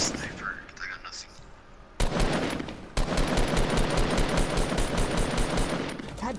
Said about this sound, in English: Oh my god, they're sniping me